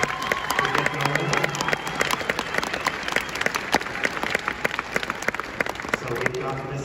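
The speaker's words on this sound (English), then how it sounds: "One last round of applause to our graduates" A crowd of parents, friends and family claps for graduates at a high school graduation ceremony, a steady dense round of applause over a low hum, with a voice talking faintly through it.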